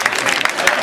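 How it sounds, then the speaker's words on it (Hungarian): An audience bursts into applause for a performer named Boróka, a brief, loud flurry of claps and cheers. "Nagy tapsot kérünk Borókának!"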